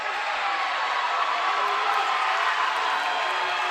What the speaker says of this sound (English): the Ridgepoint fans are cheering for something.